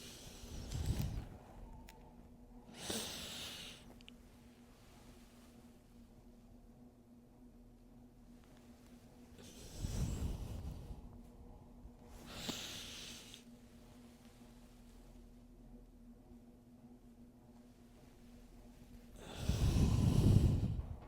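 Slow, soft breathing during a gentle yoga flow, with long unhurried inhales and exhales rising and fading in a relaxed rhythm, close and quiet.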